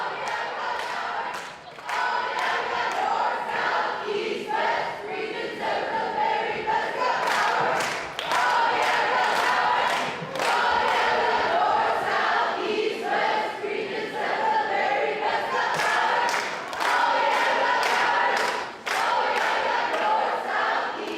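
A large crowd of delegates at a general assembly cheering and shouting for their region, a dense continuous roar of voices with scattered claps and thumps, loud and close throughout.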